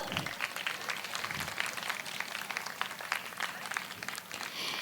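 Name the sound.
audience applause for the principal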